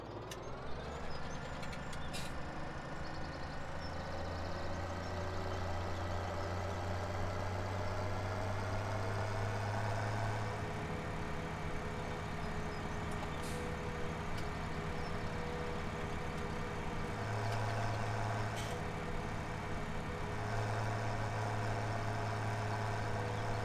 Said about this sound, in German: Motor starten sollte ich allerdings auch.